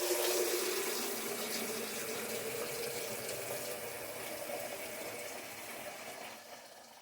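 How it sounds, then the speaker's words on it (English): Water runs steadily into a glass electric kettle, an ASDA George Home fast-boiling model, with a bright rushing pour heard close up that holds for several seconds and eases slightly toward the end, with no talking. "As you can tell there, water in the kettle."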